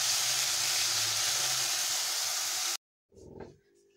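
Turmeric-laced spice paste sautéing in a pan with a steady, loud sizzling hiss that cuts off abruptly, followed by a brief clatter and faint stirring.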